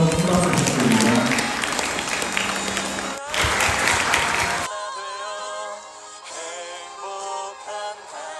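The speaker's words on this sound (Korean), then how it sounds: "다시 한번 큰 박수 부탁드립니다" Applause from wedding guests at a church ceremony, a dense clapping wash mixed with music for about four seconds, then the clapping drops away and organ-like music carries on alone.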